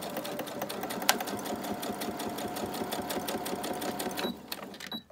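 A sewing machine stitches down a paper envelope flap with a close, rapid, evenly pulsing needle chatter that runs steadily, then slows and stops near the end with a few small clicks.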